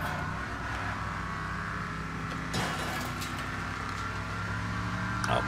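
A damaged motorhome's engine drones steadily in Wreckfest banger racing, a continuous mid-level rumble with a brief scrape or knock partway through and no voices.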